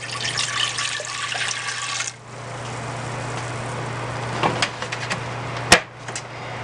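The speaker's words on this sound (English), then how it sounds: "So I'm just going to add my 1 cup of vinegar." A cup of vinegar poured into a pot while cooking ingredients for a 3-pound roasting chicken gives a steady splashing liquid stream for about two seconds, then a quieter wash of sound with a few small clinks near the end.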